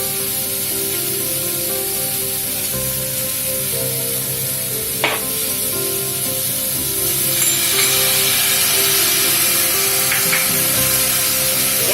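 Tomatoes hit a pan of roasted vegetables for broken-wheat dalia khichdi, setting off a loud, continuous close sizzle with a brief clink of a utensil midway and the frying swelling slightly louder toward the end.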